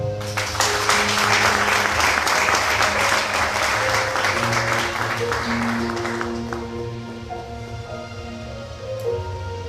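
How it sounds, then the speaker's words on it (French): A church congregation applauding together: loud, dense clapping that gradually thins out after several seconds, with sustained musical tones rising underneath as it fades. "On acclame."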